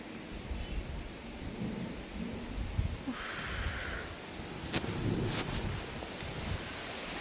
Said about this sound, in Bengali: ওহ কি হাওয়া,